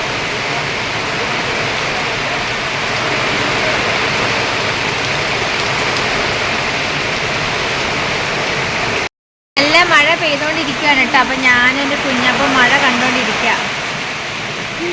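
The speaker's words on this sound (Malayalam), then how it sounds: "ഭയങ്കര കാറ്റും മഴയുമാണ് കേട്ടോ" Heavy monsoon rain with strong gusting wind roars as a steady, loud wash throughout, broken by a brief dropout, with a person talking over it in the second half.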